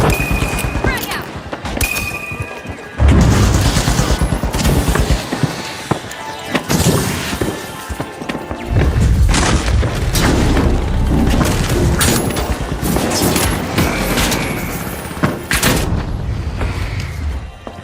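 A frag grenade bursts amid rapid gunfire in The Finals video game, with loud booms and crashing impacts from about three seconds on, continuing under bursts of fire and in-game callouts.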